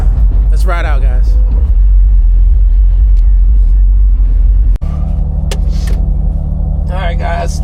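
A Porsche Carrera 4S rumbles with a deep, loud engine drone, shifting to a different idle-like hum midway, while people talk and shout over it close by.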